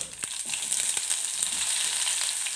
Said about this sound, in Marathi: आता इथे हे तेल पहिलंच ऑलरेडी गरम आहे तर मी आता याच्यामध्ये पटकन अशी मोरी टाकून देते जिरं